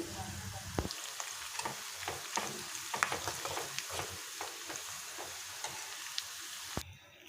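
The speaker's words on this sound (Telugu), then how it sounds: "కరివేపాకు వేసుకోవాలి" Curry leaves go into hot oil with fried onions for a tempering for moong dal, crackling in a busy, close sizzle broken by stirring clicks and scrapes before it cuts off abruptly near the end.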